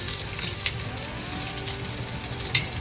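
Fish frying in a pan after being flipped makes a continuous close sizzle and crackle with small spitting pops throughout.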